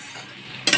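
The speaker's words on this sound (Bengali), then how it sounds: "এদিকে পোস্তের আলুটা ভাজা হচ্ছে। আলুটা নেড়ে" Potatoes with poppy seed sizzle in a pan, with a soft steady frying hiss that ends in a brief, louder scrape of stirring.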